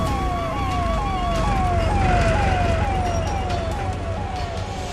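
A cartoon ambulance siren wails in a repeating falling two-tone sweep, loud and steady throughout as the vehicle drives off, with a low engine rumble beneath and no voices.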